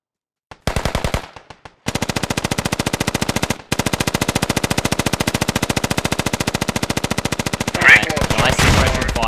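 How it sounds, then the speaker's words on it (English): Video game gunfire laying down suppressing fire, heard as long, loud, rapid-fire machine gun bursts with brief pauses between strings of shots. "Nice pressure fire there from Pinsu, just out towards the west"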